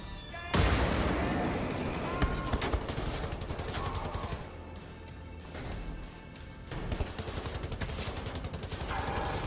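Gunfire in Wolfenstein: The New Order: one loud blast sets off long bursts of rapid automatic fire, with a short lull in the middle before the rattling, close shooting starts again and keeps going.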